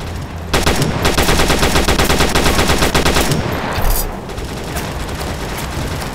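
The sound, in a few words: gunfire in video game World War Heroes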